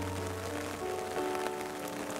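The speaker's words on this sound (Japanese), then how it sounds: "こんだけ雨降ってるからね、" Steady rain falls across an outdoor rose garden at a flower park, a continuous even patter of drops on surfaces with no voices.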